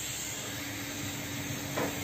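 TIG welding on a stainless steel car muffler without filler rod gives a steady, even hiss that holds unbroken throughout, close and moderately loud, with a faint flutter near the end.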